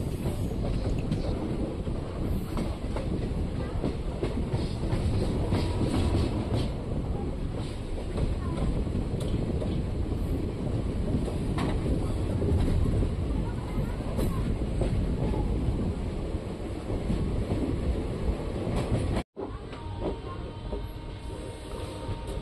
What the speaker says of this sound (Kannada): ಫ್ರೆಂಡ್ಸ್, ನಮ್ಮ ಟ್ರೈನ್ ಈಗ ಗಾಣಗಾಪುರ ರೋಡ್ ರೈಲು ನಿಲ್ದಾಣಕ್ಕೆ ಬಂದಿದೆ.